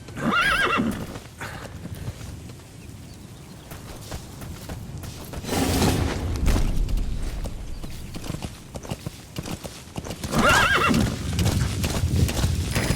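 Rhythmic hoofbeats of a galloping horse in the video game Metal Gear Solid V, close and loud, with a whinny near the start and end and whooshing movement in between.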